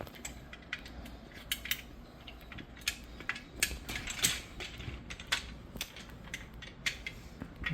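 Metal pin being worked into the slot of a Midea U-shaped window air conditioner bracket, giving a run of scattered clicks, scrapes and light metallic clinks at close range with no talking.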